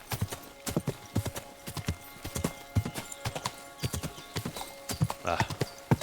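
Horse hooves clip-clop at a steady trotting rhythm in the medieval game Kingdom Come: Deliverance II, each hoofbeat close and crisp, with a brief whinny-like rise near the end and no talking.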